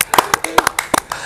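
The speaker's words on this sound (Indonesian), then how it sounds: "Nyobain harus tepuk tangan dulu semua." A small group at a casual hangout in Depok claps hands in a short, uneven burst, a handful of sharp separate claps close by over about a second.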